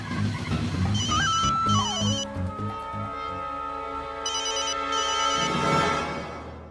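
A phone rings downstairs with a bright electronic melodic ringtone, repeating its tonal phrases loudly with no talk over it.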